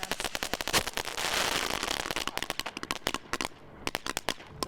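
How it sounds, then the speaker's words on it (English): A legal consumer firework goes off erratically, a rapid irregular string of loud sharp cracks and pops with a dense crackling burst in the middle, then scattered bangs trailing off. "Take this legal firework. It starts off as it should,"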